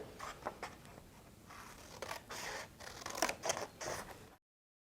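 Scissors cut paper shapes for an art project with repeated close, crisp snipping and scraping strokes, moderately quiet and without speech.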